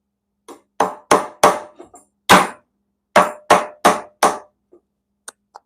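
Hammer blows ring out in a workshop, roughly a dozen sharp strikes coming in two quick bursts with a short pause between, loud and close with no talk.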